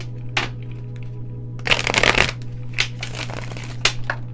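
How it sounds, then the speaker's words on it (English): Tarot cards being shuffled close by, a few short riffling bursts with one longer flurry in the middle, over a low steady hum and no talk. "I want to give him another shuffle."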